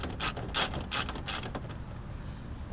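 A hand ratchet tightens a bolt on a Ford F350 fender flare, giving four quick bursts of clicking at a steady pace in the first second and a half, close and clear, followed by quiet.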